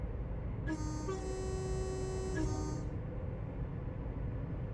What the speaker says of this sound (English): So past the yard, we give it a honk on the horn.